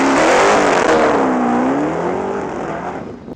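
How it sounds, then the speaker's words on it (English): An HTT Plethore mid-engine V8 hypercar with a manual transmission roars loudly up close, its engine note climbing in pitch as it revs, then easing off and fading toward the end. "a high-powered V8 with a manual transmission that's mid-engine and a 3-seater"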